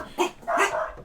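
Dogs barking indoors at a home, a couple of muffled yips and barks a short distance away, fairly faint with no talk over them.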